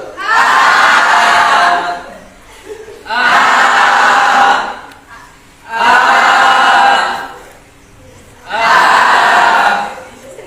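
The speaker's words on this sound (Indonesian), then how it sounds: "Teriak-teriak." Workshop participants in a public speaking exercise shout a loud vowel together in four separate bursts, each lasting about a second and a half with short quiet gaps between them.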